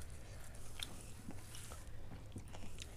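Someone chews a spicy burger, with soft wet bites and crunches spread through a quiet, hissy background, faint and close to the mic.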